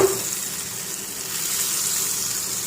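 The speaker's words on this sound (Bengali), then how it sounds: "বাটারটা কিছু নেড়ে গলিয়ে নিচ্ছি" Butter melting in a kadai over a gas flame while being stirred gives a soft, even sizzle and hiss that carries steadily throughout, with no voices.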